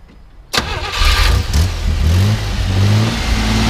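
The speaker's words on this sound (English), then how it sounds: "So we'll go ahead and start it up so you can hear it run." A 1964 Jeep CJ5 with a Buick V6 cranks briefly and fires up, then settles into a loud, close, rough idle with a few light revs and no talking.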